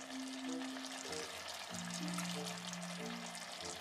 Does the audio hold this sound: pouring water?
yes